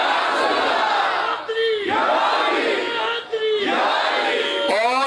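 A crowd at a religious gathering shouts loudly in unison, three big swells of massed voices broken by short pauses, loud and close with no single speaker standing out.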